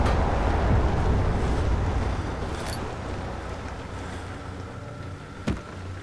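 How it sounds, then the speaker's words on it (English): Wind gusting through a dark castle in Amnesia: The Dark Descent, a steady low roaring rush that slowly fades, with a brief knock near the end and no talk. "Why is it so windy in here?"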